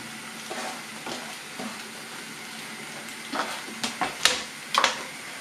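Sausage sizzles in a pan for a Polish hearty gajowy-style soup, a soft steady frying hiss broken by a few stirring scrapes and sharper crackles toward the end, no talking.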